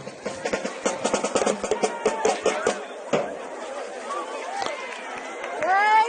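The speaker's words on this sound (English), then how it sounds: "Crowd's thickening it up a little bit." Crowd chatter in the stands at a high school varsity football game between Escambia Academy and Clarke Prep, a mix of nearby voices talking and calling out over a murmuring background, with sharp claps and knocks scattered throughout.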